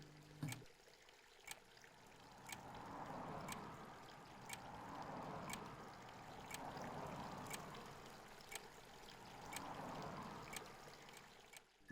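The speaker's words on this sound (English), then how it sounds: "you get the sound of the water running into the fish tank" Water runs steadily into a fish tank in an office in a Source Engine video game, a soft continuous trickle with gentle swells, under sharp clicks that repeat about once a second.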